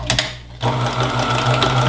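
A sewing machine stitches a fabric bag, a few quick needle taps followed by a steady close, loud mechanical whirring run of stitches with no talking over it.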